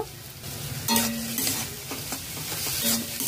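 A spoon scrapes and stirs through mashed eggplant bharta with raw chopped onion, coriander and a little raw mustard oil, soft repeated mixing strokes close by under a faint background hiss.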